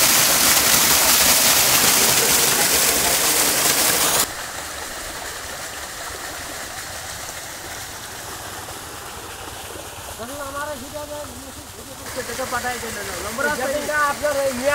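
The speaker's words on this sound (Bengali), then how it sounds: "অনেক জোরে পানি বের হচ্ছে" Water from a 3 hp solar-powered irrigation pump gushes forcefully in a steady loud rush, fading to a softer flow as a voice talks over it.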